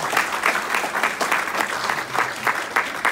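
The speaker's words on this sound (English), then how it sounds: "Round of applause for Dr. Matthew." Sustained applause from a seated audience for Dr. Matthew Tan after his talk: many hands clapping in a thick, continuous patter, loud and close throughout with no voices on top.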